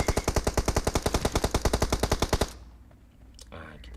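Rapid automatic gunfire in the mobile battle royale game PUBG Mobile: a loud, steady burst of about two dozen shots lasting over two seconds, then a quieter stretch with faint game sounds and a brief voice.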